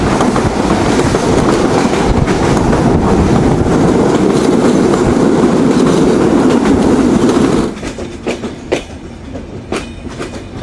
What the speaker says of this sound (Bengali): আন্তনগর Kapotaksha express through pass Bejerdanga railway station